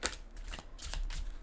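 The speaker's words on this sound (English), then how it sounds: "These are a little hard to shuffle because they're new." New, stiff tarot cards being shuffled by hand close up, a few quick riffling bursts and soft slaps in a quiet room.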